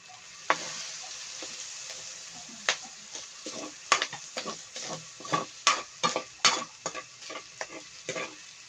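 Pork ear sisig sizzles in a hot pan as soy sauce goes in, with loud bursts of spitting and hissing and scraping stirring strokes repeating in an uneven rhythm, close and clear.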